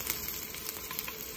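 Garlic sizzles in hot coconut oil at the start of a rasam, a close, steady crackling fry with small pops and no voices.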